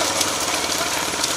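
A loud, close motorbike engine drones steadily for a brief moment, with a rough, throbbing rumble.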